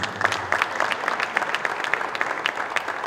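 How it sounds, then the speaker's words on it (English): Crowd at a national futsal league awards event applauds, a run of brisk scattered clapping that stays steady and fairly loud for several seconds, with no speech over it. "let's give them a round of applause"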